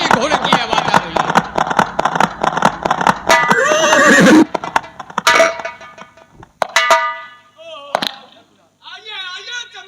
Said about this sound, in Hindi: लग रहा है कि उन्हीं के घोड़े की आवाज आ रही है